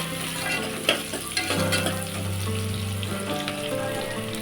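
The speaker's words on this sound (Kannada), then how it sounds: "ಈರುಳ್ಳಿ ಸ್ವಲ್ಪ ಚೆನ್ನಾಗಿ ಕೆಂಪಾಗಬೇಕು ಚೆನ್ನಾಗಿ ಈರುಳ್ಳಿ ಫ್ರೈ ಆದರೆ ಪಲಾವ್ ಚೆನ್ನಾಗಿ ಬರುತ್ತೆ" Onions frying in a pan for a soya chunks pulao give a continuous, close sizzle with soft stirring scrapes and small pops throughout.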